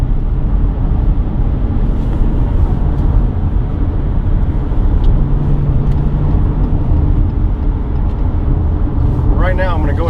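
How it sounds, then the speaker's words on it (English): Subaru Outback with an H6 boxer engine accelerating up a freeway on-ramp, heard from inside the cabin as a steady, loud engine and road drone throughout, with a voice briefly talking near the end. "Comfortably get to speed with that H6 boxer motor."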